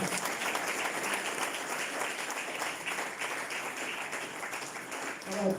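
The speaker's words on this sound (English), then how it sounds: "let's give ourselves another round of applause again" Group applause from attendees at a mentorship end-of-year function, a steady, fairly quiet wash of many hands clapping that holds evenly for several seconds.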